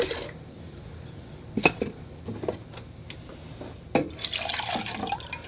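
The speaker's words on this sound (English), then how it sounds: "let me rinse out my water bucket and get some fresh water" Water sloshes and splashes as a watercolour painter's water bucket is rinsed out and refilled with fresh water, with a couple of sharp clinks and drips over a quiet room.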